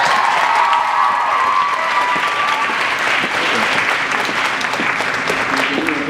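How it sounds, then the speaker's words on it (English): A concert crowd claps steadily through the whole stretch, dense and loud, with a few whoops and cheers rising over the ovation at an outdoor show as snow falls. "can we give these guys another round of applause?"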